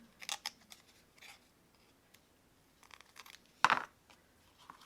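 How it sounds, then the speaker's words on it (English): Scissors trim paper for a mixed media art piece in a few short, quiet snipping bursts separated by pauses, with a louder cut near the end and no talking. "I know it's not exciting to watch me trim things."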